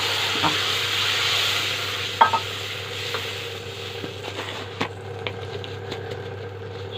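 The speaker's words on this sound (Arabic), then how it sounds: "احنا بنحمرش البصله، شايفين البصله يعني اتشوحت" Onion fries in fat in a pan, with tomatoes added, giving a steady sizzle and hiss under a low hum, broken by a few close clinks and stirring knocks.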